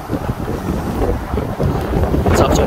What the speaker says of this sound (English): It is very, very windy, you can probably hear.